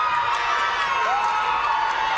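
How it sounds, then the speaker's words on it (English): Crowd cheering at a high school basketball game, a continuous, fairly loud wash of voices and shouts with faint whoops rising from the gym. "Crowd getting excited as the calls are starting to go their way in this game"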